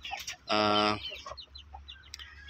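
Two-month-old chickens, a flat-combed pullet and stag, cluck nearby; one loud, drawn-out call is followed by softer scattered clucks.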